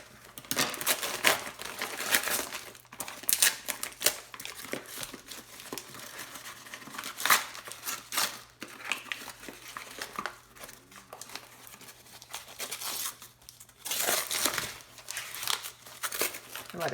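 Heavily taped packaging holding latex accessory pieces being torn open, with continuous loud crinkling, ripping and rustling of tape and wrap close by, in irregular bursts throughout.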